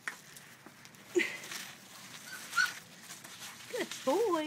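Standard Poodle puppies whimpering softly, with several faint high whines and squeaks scattered over a few seconds beneath a person talking to them.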